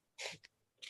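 A single sharp sneeze bursts out close and fairly quiet, followed by a small catch of breath and a brief sniff.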